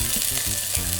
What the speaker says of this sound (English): now it's time to add our cheesy, eggy, oniony, chili mix to that